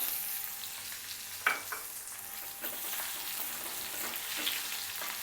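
Guava pieces sautéing with garlic in a pan for a chutney, making a steady close sizzle broken by a few sharp stirring clacks and scrapes.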